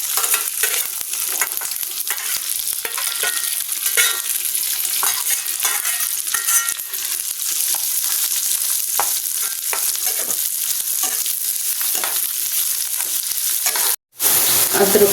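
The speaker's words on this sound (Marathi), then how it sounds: "कांदा टाकून घेते." Chopped onion fries in hot oil with a loud, continuous sizzle, a spoon stirring through the pan now and then, close and steady with no voices, while filling is prepared for chicken keema samosas.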